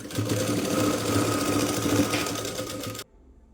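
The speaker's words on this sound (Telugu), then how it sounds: "ఇటు సైడ్ కూడా నాలుగు స్టిచ్చింగ్ వేస్తానండి" A sewing machine runs steadily while stitching the side seam of a blouse, a close, even mechanical whir with a rhythmic needle patter that cuts off abruptly near the end.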